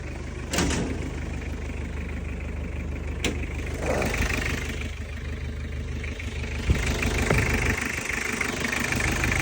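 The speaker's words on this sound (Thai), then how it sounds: "มาฟังเสียงเครื่องกันดีกว่า" Toyota Mighty-X 2.5 pickup engine idling steadily up close, a low rumbling drone with a few faint knocks and clunks mixed in, no talk over it.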